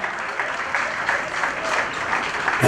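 Loud, sustained crowd applause for the president of the Senate at a ceremony, an even roar of many hands clapping that holds steady throughout, with faint voices underneath.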